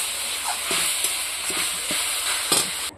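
Oil and mustard seeds frying in a pan, a continuous close sizzle broken by several sharp stirring scrapes and clinks spread through the stretch.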